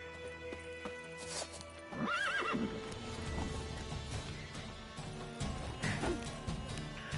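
Geralt's horse Roach in The Witcher 3 gives a clear whinny while hooves clip-clop at a run, with scattered game effects in the background.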